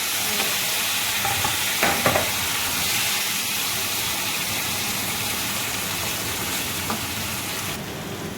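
Spiced hilsa pieces fry in hot oil with dried chillies, bay leaf, radhuni and cumin in a wok. The loud, continuous sizzle is close, with a couple of faint clinks.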